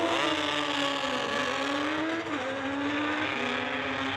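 Kawasaki drag racing motorcycle at a bike drags event, a loud sustained engine roar with a steady high pitch that wavers briefly near the launch, suggesting tire shake.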